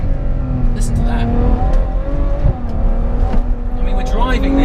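Ferrari rear-engine supercar driven hard along mountain switchbacks, its engine revving and accelerating with a loud, sustained droning tone that rises and falls as the car climbs through the bends, heard close from inside.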